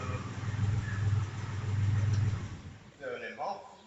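A Porsche engine runs at idle with a low, steady rumble that swells and eases over a few seconds, and a person talks over it near the end.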